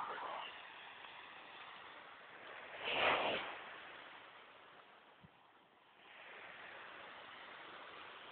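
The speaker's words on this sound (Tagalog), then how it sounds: "Ito ang dagat." Sea waves wash along the shore after Typhoon Frank in June 2008. The surf is faint and distant, a soft continuous hiss that swells into one louder surge midway before settling again.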